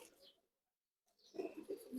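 Pigeons at a home loft give soft, low cooing calls, a couple of brief murmurs after a short silence, faint and close.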